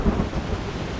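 Thunderstorm ambience from the video game Reverse: 1999 at sea, a low rumbling roll of thunder over steady rain hiss, brief and continuous with no talk.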